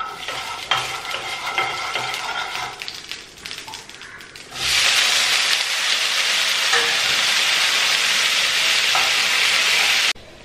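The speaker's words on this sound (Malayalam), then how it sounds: "അപ്പൊ ആ സമയം കൊണ്ടേ നമുക്ക് നമ്മുടെ ഉരുളക്കിഴങ്ങ് ഒന്ന് ഫ്രൈ ചെയ്തെടുക്കണം വേവിച്ചത്" Boiled potatoes fry in a pan with stirring and scraping at first, then settle into a loud, steady, close sizzle that runs for several seconds before stopping abruptly.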